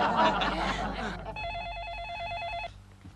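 A telephone rings in a sitcom scene, a clear warbling electronic ring lasting over a second right after laughter and talk, then cutting off.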